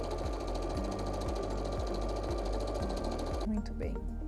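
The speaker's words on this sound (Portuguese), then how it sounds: "Vamos fazer essa costura para poder passar o elástico." A sewing machine stitches a seam in Santaflex felt, running steadily and rhythmically at close range with a regular mechanical whir and thump, then slowing and stopping near the end, while someone talks over it.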